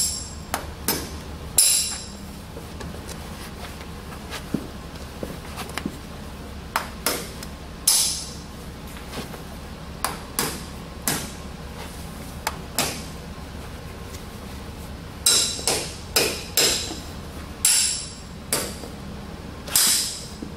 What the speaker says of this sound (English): I've got the right front nailed on with two nails.